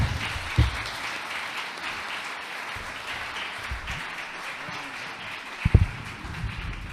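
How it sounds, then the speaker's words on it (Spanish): Audience applause after a recited poem at a talk on family education, steady crowd clapping at moderate volume with a couple of louder thumps near the start and end. "Ahora sí, un aplauso."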